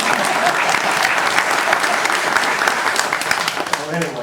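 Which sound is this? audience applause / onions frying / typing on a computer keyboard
audience applause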